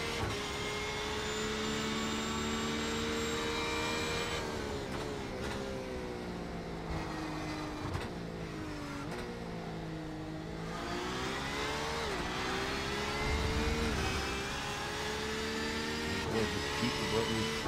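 Onboard race car engine in iRacing at Circuit Gilles Villeneuve during the American iRacing Tuesday Series, loud and continuous with rising and falling revs through shifts and corners, heard close from the cockpit.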